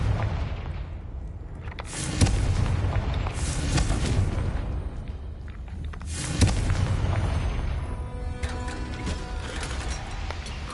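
Confringo explosion spell fired in a Harry Potter video game, two heavy booming blasts with rumbling, crackling debris over a steady background roar.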